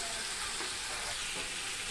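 Chicken and onion fry together in a pot for chicken pulao, making a dense, even sizzle that stays steady and close for the whole stretch.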